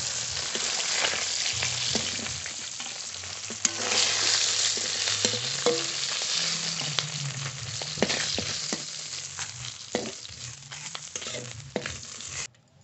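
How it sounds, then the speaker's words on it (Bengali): Fish head frying in hot oil in a home kitchen, a dense, steady sizzle with stirring and scraping sounds close by, no one speaking. "মাছের মাথা খুব ভালো করে ভেজে নিয়েছি,"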